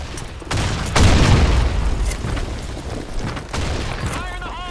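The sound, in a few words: grenade explosion in BlackShot video game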